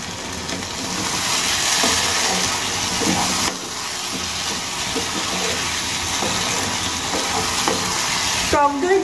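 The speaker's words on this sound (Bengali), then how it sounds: "এবার আমি এর মধ্যে দিয়ে দেব ফেটিয়ে রাখা টক দই।" Whisked sour yogurt goes into hot frying spices in a pan for a Bengali rohu fish curry, a steady close sizzle with stirring scrapes throughout and a brief burst of louder frying near the end, no talk.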